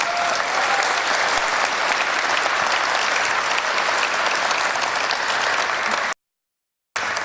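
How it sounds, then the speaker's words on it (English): After a choir concert, an audience claps steadily and loudly in a dense, continuous burst before cutting off abruptly. "Applause."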